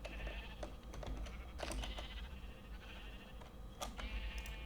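Sheep bleating in the Minecraft video game, a few short game-sound bleats over a steady background of ambient noise, with no talking.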